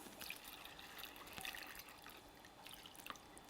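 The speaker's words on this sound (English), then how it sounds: "And fill it up to cover, in this case, the carrots." Water poured into a jar over carrots for lacto-fermented vegetables, a steady quiet trickle with small drips and splashes throughout, faint and close, with no talking.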